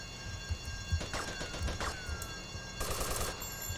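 Bursts of rapid automatic gunfire in GTA Vice City, fairly quiet and continuous, with a brighter, harsher burst near the end.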